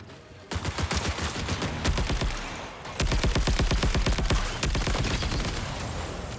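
Rapid bursts of gunfire from the video game Marathon rattle out in dense automatic volleys, loud and close, with brief pauses between strings of shots.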